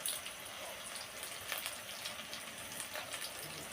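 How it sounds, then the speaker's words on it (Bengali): Chopped garlic fries in oil for chowmein, making a faint, steady, close hiss with light crackles throughout and no voices. "এই দেখো রসুন কুচি দিয়ে দিচ্ছি তেলের ওপরে"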